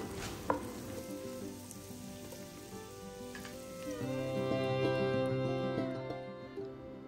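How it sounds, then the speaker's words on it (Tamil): Onions frying in a pan give off a steady, close sizzle that swells louder midway, with occasional clicks of stirring and no talk over it. "வெங்காயம் சேர்த்துட்டு இதை வந்து நல்லா வதக்கிக்கலாம்."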